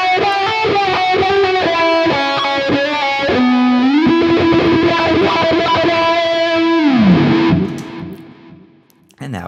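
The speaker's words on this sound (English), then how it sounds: "Here's how it sounds with a low-pass filter." Electric guitar passing through a software wah built from a low-pass EQ filter, sustained distorted chords and notes with the bright upper tones rolled off, loud and continuous before fading at the end.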